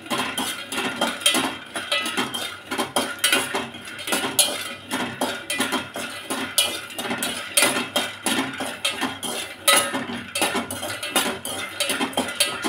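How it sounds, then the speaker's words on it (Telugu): Peanuts fry in a pan for a capsicum curry while a utensil stirs them continuously. Rhythmic metallic scraping and clinking repeats at close range with no pauses, and no one speaks. "శనగవిత్తనాలు తిప్పుతానే ఉండాలండి. తిప్పకపోతే అడుగున మాడకూడదండి."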